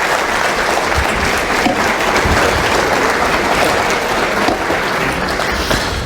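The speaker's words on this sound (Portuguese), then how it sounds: "Pode aplaudir Jesus pela colaboração dos irmãos." A large church congregation applauds steadily and loudly for several seconds, a dense wash of clapping with no voices standing out.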